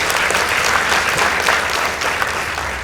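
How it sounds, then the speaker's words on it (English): A studio audience at a high school debate claps loudly and continuously for the Cheptil Secondary School team, a dense burst of applause that eases slightly toward the end. "Please give them a round of applause."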